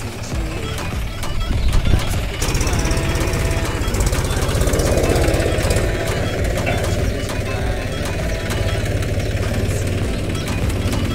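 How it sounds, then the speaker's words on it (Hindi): Tractor engine running near a riverbank where sand and soil are being mined, a loud, steady chugging diesel rumble with rapid knocking pulses that swells and then holds at close range. "ये ट्रैक्टर जा रहा है, थोड़ी सी मिट्टी लेकर उधर जाएगा"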